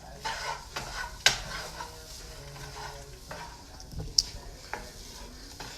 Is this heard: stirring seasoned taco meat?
yes